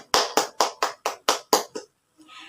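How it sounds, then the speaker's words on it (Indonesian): A classroom group claps briefly for a student group after a micro-teaching discussion, about eight sharp, evenly spaced claps that stop abruptly, then a faint rustle. "kita kasih tepuk tangan dulu buat kelompok 1."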